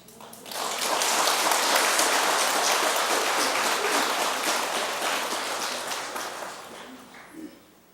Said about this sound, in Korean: 지금 박수 친 이들은